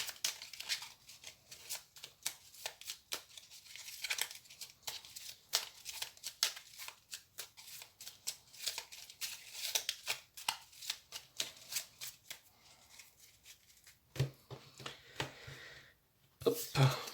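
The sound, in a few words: shuffling oracle cards for a reading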